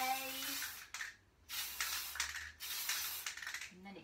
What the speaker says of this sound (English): So just give it a little spray